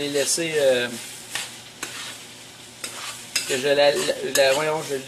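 Meat frying in a Gotham Steel nonstick pan, with a steady close sizzle and occasional stirring scrapes, while a person talks intermittently over it.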